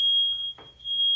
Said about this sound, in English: my fire alarm was going off, not sure what that was about